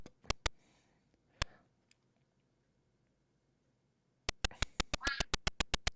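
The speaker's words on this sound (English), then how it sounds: "Was that a corn child making duck noises?" Sharp clicky quacking from a corn child character in a video game, a few scattered calls and then a rapid run of them, fairly faint against near silence.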